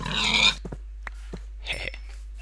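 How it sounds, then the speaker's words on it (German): Pig in the video game Minecraft gives a loud grunting oink, followed by a few short soft clicks and game sounds and another brief muffled grunt, with no talking. "Schweinchen."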